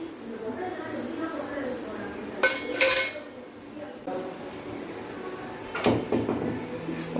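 Cauliflower fry turned over in a pan, a couple of clattering metal scrapes and clinks of a spatula against the pan under ongoing talk.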